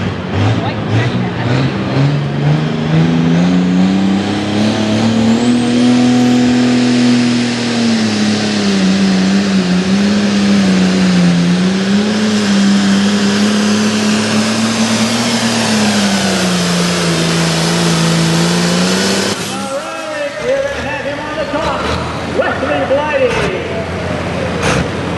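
A white tractor roars at full throttle during a truck and tractor pull at Meadville, Pennsylvania, with a loud, sustained engine note that swells and dips for about twenty seconds before cutting off into crowd and ambient noise.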